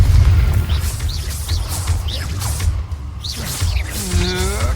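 A Confringo spell explosion from Hogwarts Legacy, a deep booming blast with rumbling low end, mixed among other whooshing game effects and short cries.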